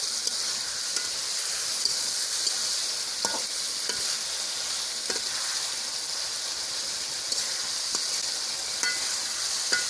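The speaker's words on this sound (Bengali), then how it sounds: "এখন নেড়ে ছেড়ে মশলার সাথে আলুগুলো সুন্দরভাবে মিক্স করে নিচ্ছি" Boiled potatoes are stirred with spices in a hot frying pan, a steady sizzle of frying under irregular scrapes and clinks of the spoon against the pan, with no talking.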